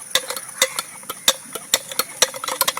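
A spoon stirs sugar into Kerala vattayappam batter made with toddy, clinking against the bowl in irregular, close, crisp taps over a quiet background.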